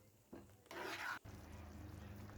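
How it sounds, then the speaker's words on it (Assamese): Fried okra being stirred into masala in a restaurant-style bhindi masala: a quiet kitchen with a couple of short scraping stirs of a spoon in the pan, one longer and louder, under a low hum. "ভাজি থোৱা ভেন্দিখিনি আমি মছলাখিনিৰ লগত ভালদৰে মিলাই"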